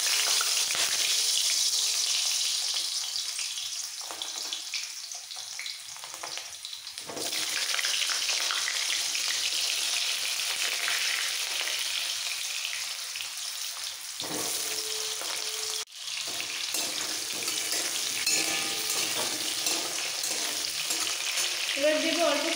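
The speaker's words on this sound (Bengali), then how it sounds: "এবার কেটে রাখা ধোয়া আলুগুলো তেলের মধ্যে দিয়ে দিচ্ছি।" Washed, cut potatoes fry in hot refined oil in a pan, a continuous crackling sizzle that dips quieter for a few seconds at a time before swelling back, with no speech.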